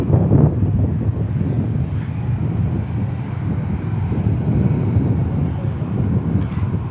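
A Finnair jet airliner passes at Dallas Fort Worth Airport as a loud, steady roar of engines, continuous throughout with wind buffeting the microphone.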